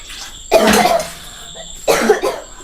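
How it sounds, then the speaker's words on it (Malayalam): Two loud, harsh coughs close by, each a short burst with a pause between them. "ചുമച്ചിട്ട് ഛർദിക്കുന്നുണ്ട് കേട്ടോ"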